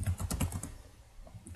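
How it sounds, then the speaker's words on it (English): Rapid computer keyboard typing during a Dungeon Crawl Stone Soup game session, a quick burst of close, clicky keystrokes in the first half that thins to a few scattered taps, with no talking. "Typing is hard."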